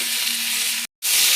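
Grated ginger fries with whole spices and turmeric in a pan, giving a loud, close, continuous sizzle that cuts out abruptly for a moment before resuming.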